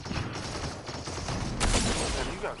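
Video game gunfire, dense bursts of rapid shots crackling under a busy noisy mix, with a sharper loud burst midway, fairly close and continuous.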